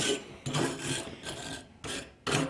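Rhythmic rasping scrape of a tool worked over a horseshoe wreath, five back-and-forth strokes in quick succession, close and fairly loud with brief pauses between them.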